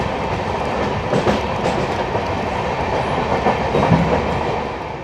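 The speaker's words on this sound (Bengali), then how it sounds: "নতুন রেক আমাদের ট্রেন ছেড়ে দিল" Kanchanjungha Express train running steadily on the rails, a continuous close rumble with rhythmic clickety-clack of wheels over track joints, no voices.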